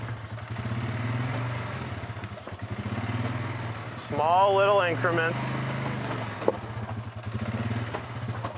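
A Polaris ATV engine crawls slowly down over trail rocks on light throttle, its low, steady rumble running throughout while someone talks over it.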